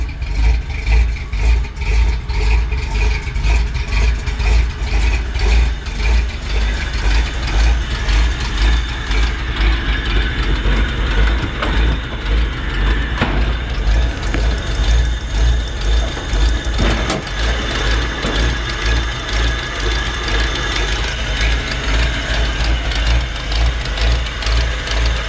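A cold 1953 Chevrolet 3100 pickup engine idles steadily with a deep, throbbing exhaust rumble, loud and close, no voices.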